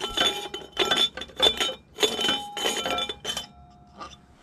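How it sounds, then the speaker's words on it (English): A metal air cleaner is worked off a Briggs & Stratton engine on a Toro Power Handle Sport 25-inch reel mower, with close bursts of clinking and rattling metal handling, and no talk. "I'm just gonna try to take this"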